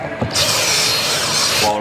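A power drill with a Phillips bit widens holes in fiberglass on a 2013 Ranger boat. A short click comes first, then a loud, steady whirring and grinding for about a second and a half, close by.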